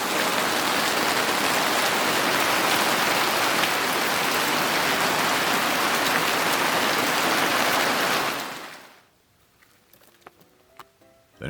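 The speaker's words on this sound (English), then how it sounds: "Then the rain picks up a lot, and there's hail mixed in." Heavy rain mixed with hail pours down in a loud, dense, steady roar for several seconds, then stops abruptly, leaving only a few faint drips and taps.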